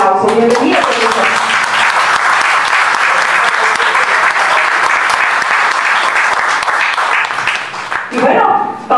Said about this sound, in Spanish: a quien vamos a recibir con un fuerte aplauso